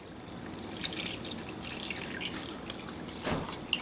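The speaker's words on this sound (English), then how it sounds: "Now I'm going to take that and pour it over the shrimp." Powdered egg wash poured over breaded jumbo shrimp, a soft continuous liquid splashing and dribbling, close and fairly quiet, with a few small drips and a brief louder splash near the end.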